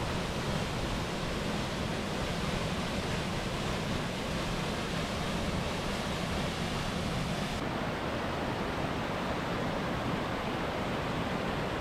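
Dog Creek Falls, a roadside waterfall in the Columbia River Gorge, heard from its top as a loud, steady, unbroken rush of falling water filling the whole clip.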